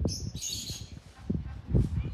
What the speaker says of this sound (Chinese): 门口飞来一小群八哥